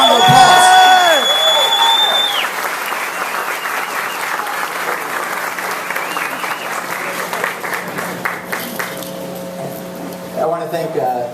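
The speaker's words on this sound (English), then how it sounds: "Let's give him a nice round of applause." An audience at a Cristian Rivera Foundation event in New York breaks into loud, sustained clapping, with a few cheers and whoops, that carries for several seconds before thinning out toward the end.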